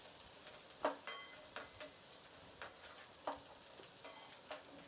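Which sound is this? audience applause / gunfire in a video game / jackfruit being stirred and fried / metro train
jackfruit being stirred and fried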